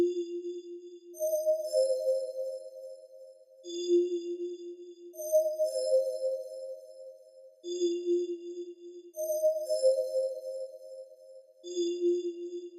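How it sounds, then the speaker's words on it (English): Soft synth pad patch with sustained tones in slow repeating phrases, each chord swelling and fading with airy high shimmer, gentle and moderately quiet, playing alone. "Looks like we've got 2 pad synths."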